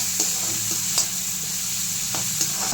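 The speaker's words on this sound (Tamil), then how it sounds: "ஆனியன் நல்லா ஃப்ரை ஆகிடுச்சு." Onions sizzling in a hot pan for fish curry, a steady frying hiss with occasional scrapes and clinks of stirring, no talking.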